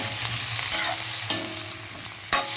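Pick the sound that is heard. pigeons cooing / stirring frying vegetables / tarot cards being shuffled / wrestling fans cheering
stirring frying vegetables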